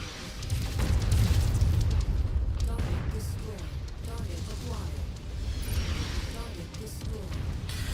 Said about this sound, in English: Where is that artillery firing from? Or is it just like ambient gunfire?